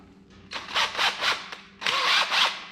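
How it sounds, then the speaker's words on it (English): An electric drill whirs in short bursts, several quick revving pulses close by, then a pause and two more longer runs. "a drill hooked up"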